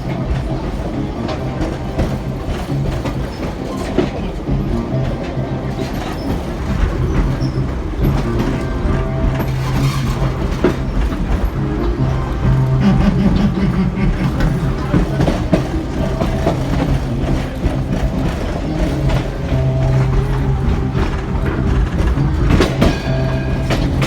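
A Halloween-themed train ride rattles steadily with a rumbling, clattering run of wheels over track, loud and continuous throughout, with faint background voices.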